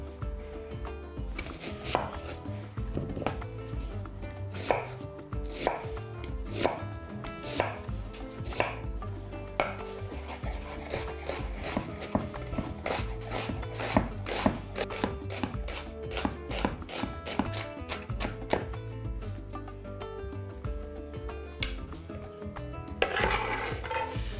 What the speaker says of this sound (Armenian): մանր կտրատում և տապակում ենք։